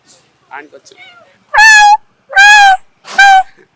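A person imitates a cat with three loud, drawn-out, whiny meows that sound more like a puppy whimpering. A few softer vocal bits come before them.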